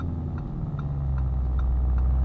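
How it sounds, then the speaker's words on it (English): A Lamborghini Urus S engine drones steadily from inside the cabin, a low rumble with faint periodic pops that could be downshift barks, growing slightly louder toward the end. "God, those downshifts"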